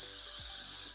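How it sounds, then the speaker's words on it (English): A short hiss of spray misted onto a styled drag wig, one close burst of bright, airy spray lasting about a second, with no talking. "Spray."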